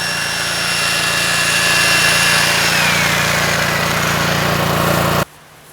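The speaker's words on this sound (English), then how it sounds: "Having drilled the pilot hole" Power drill boring a pilot hole into the ground for a Radix ground screw, a loud sustained whine with a steady motor hum that runs for about five seconds, then cuts off abruptly to quiet.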